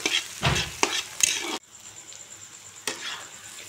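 Tomatoes cook in a pan over a medium flame, with close, crackling stirring and scraping bursts followed by a quieter, soft sizzle and another stir near the end.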